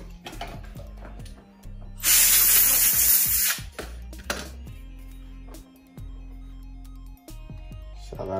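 A strong, hissing blast of blown air lasts over a second while cleaning parts of a Baroni membrane carburetor from a kart being restored, surrounded by close metallic clicks and tapping of small parts being handled.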